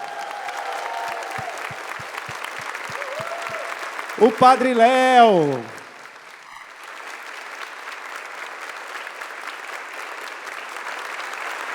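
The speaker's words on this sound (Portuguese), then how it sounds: "uma grande e forte salva de palmas a Jesus" A church audience applauds during a Catholic gathering. A voice speaks over the clapping, then a loud shout rises above it, and steady applause continues at a moderate level afterward.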